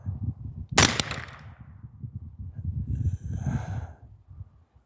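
A single sharp rifle shot fired at a distant target on a range through a Primary Arms 1-10x28 SLX scope setup, a loud crack with a short decaying tail over steady low wind and handling noise, then a faint rustle.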